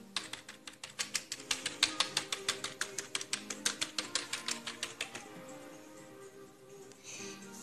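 A noisy PC keyboard clatters with rapid, evenly spaced keystrokes close up, a steady rhythmic run of sharp clicks that stops about two-thirds of the way through.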